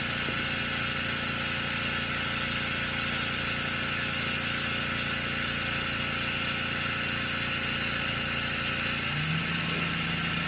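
A spin coater motor runs at speed past 10,000 RPM as a steady, dense mechanical whine and hum with constant tones, with a slight shift in pitch near the end.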